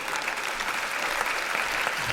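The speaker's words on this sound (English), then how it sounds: "Just big applause break" Audience applause at a comedy show, a loud, dense burst of clapping from a large crowd that fills the whole moment.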